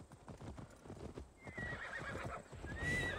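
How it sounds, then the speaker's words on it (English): In Assassin's Creed Valhalla, a horse's hooves clop in a steady walking rhythm, then it lets out a loud high whinny that wavers, followed by a second neigh near the end. "Why is this horse just following?"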